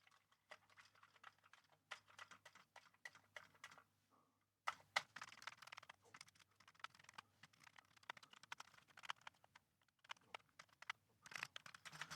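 Keys clatter on a repaired Commodore computer keyboard in a quiet room, bursts of quick clicks and taps with brief pauses, including spacebar presses.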